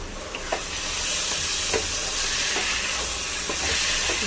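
Cumin, coriander and spices sizzle steadily in a hot pan while being stirred, probably for a potato and pea ghugni. A continuous close frying hiss runs throughout, broken by faint scraping stirring strokes, with no talking.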